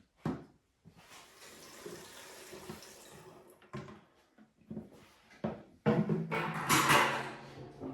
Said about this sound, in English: I'll put what petrol I've got in there